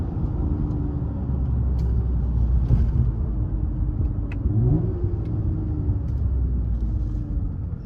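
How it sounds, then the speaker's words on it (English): A Toyota Camry TRD engine downshifting into first gear during city driving, a low rumble with a brief rev swell heard from inside the car. "That's me downshift on the first."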